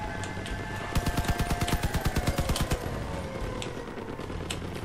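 Rapid bursts of cannon fire in the vehicle combat game Crossout, about twenty sharp shots in a fast rhythmic volley lasting under two seconds, over steady engine drone, with a few scattered shots afterward.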